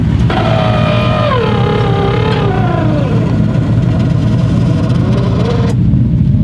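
A Ford Mustang with a manual clutch and MSD ignition coils drives along, its engine note steady and loud with a pitch that slides down and then holds, close and continuous, with no talk.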